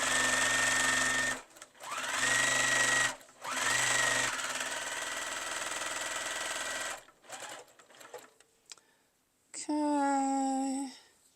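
A sewing machine runs close by in several bursts of steady buzzing stitching as it sews down the side of a fabric bowl cozy, with short pauses between runs and a final burst after some quiet handling noises.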